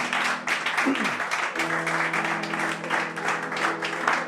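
A church conference audience in Abidjan claps in a fairly thin, patchy round of applause, with a sustained tonal voice or music sound running underneath.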